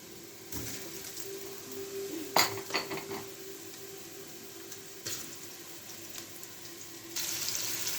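Kofta balls go into a pan with garlic that has already turned golden, giving a soft sizzle under sharp clinks and clatter of a utensil against cookware, loudest near the middle, with a brief hiss toward the end.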